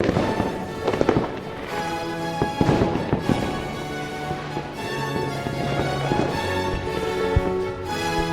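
Fireworks burst continuously with dense crackling pops, sharp bangs and whistling tones layered throughout.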